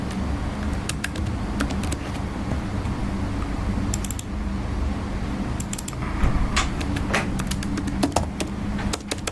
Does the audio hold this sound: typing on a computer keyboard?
yes